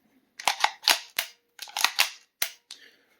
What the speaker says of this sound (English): when you engage the bolt, it will bring the tabs back up and lock the gun back into position